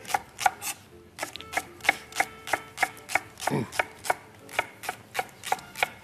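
Knife chopping soft zucchini on a cutting board in a home kitchen, a steady run of about fifteen crisp, evenly spaced chops close up, with one brief scraping sound partway through.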